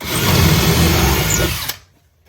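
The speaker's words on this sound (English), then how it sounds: "So I have to drill the holes out. Because this is oak timber." Power drill boring holes into very hard antique oak timber from an old desk, a loud steady whine for about a second and a half that cuts off abruptly, leaving near silence.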